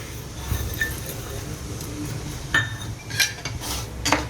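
A metal spoon clinks and scrapes against a frying pan while sugar is stirred into half a glass of heating milk for coconut barfi, light irregular taps with a few brighter clinks near the end.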